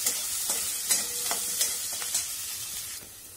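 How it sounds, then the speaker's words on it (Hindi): Garlic, ginger, chopped onion and green chili sautéing in a pan, giving a steady close sizzle broken by a few light scrapes and stirs, with no talking. "इन सबको थोड़ा सा सॉटे करना है आपको।"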